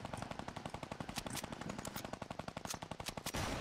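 Rapid automatic gunfire in an online video game, a fast even stream of shots repeating for several seconds, fairly quiet under the game mix with no talking.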